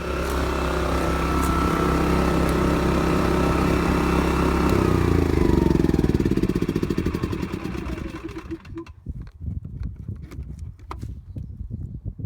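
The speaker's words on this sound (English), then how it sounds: "Oh, I need to go restart the generator." An RV generator restarts, its steady engine drone holding for several seconds before dropping and sputtering into an uneven, rough idle with clattering bursts, heard close with no talk.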